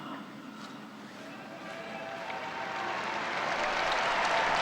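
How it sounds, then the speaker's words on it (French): Faithful in St. Peter's Square applaud Pope Francis after the Angelus prayer, a distant, soft wash of clapping that gradually swells louder over several seconds. "Il est applaudi par les fidèles qui le saluent, brandissent des drapeaux"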